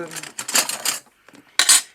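A knife is picked up and handled, giving quick metallic clinks and scrapes in two short bursts separated by a near-silent gap, close and fairly clear.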